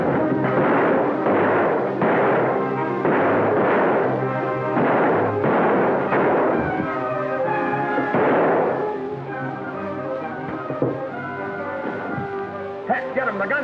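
Gunfire in a 1945 Western film, a run of loud rhythmic shots with rumbling echoes over the first several seconds, then tapering into scattered noise and a few later bangs.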